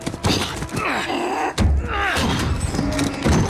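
In Call of Duty Modern Warfare, a door is breached with one heavy slam and thud mid-sequence. Groaning and game voices surround it.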